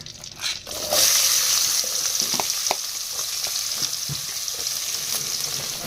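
Onions frying in hot butter and oil for pav bhaji, a steady close sizzle with occasional stirring clicks and scrapes throughout, no talking.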